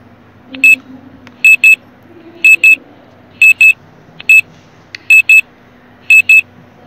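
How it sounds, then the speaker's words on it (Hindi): An alarm clock rings loudly with sharp electronic beeps in evenly spaced pairs, repeating over a faint low hum. "अब जल्दी से टीचर आपको क्लॉक साउंड की आवाज़ सुनाएंगी।"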